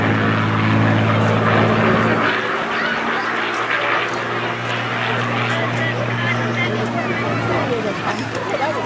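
A Yak-3 Russian World War II fighter built in 1990, heard at a seaside airshow as a steady, loud propeller engine drone that holds throughout, with people talking over it.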